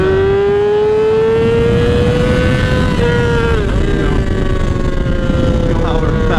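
An Indian Scout 60 motorcycle on the move gives a steady, droning engine note that climbs slightly in pitch, then settles, under constant wind rush.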